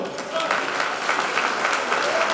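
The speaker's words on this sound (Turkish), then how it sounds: "Lütfen bir alkış istiyorum" Audience applause fills a room at a celebration held by the Bursa real estate consultants' tradesmen chamber, a dense, steady wash of many hands clapping at even loudness throughout.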